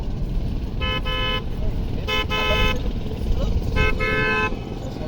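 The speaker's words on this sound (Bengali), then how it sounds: "যেখানে সেখানে হর্ন বাজাচ্ছে" Three car horn honks, each about half a second long, ring out over a constant rumble of road traffic in Cox's Bazar, Bangladesh.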